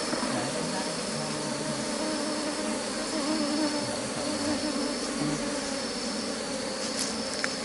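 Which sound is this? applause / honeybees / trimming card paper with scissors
honeybees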